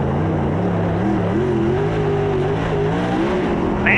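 Race cars roar around a racetrack, engines droning loudly and steadily with wavering pitch as they pass close by and hold speed, with no voices over the sound.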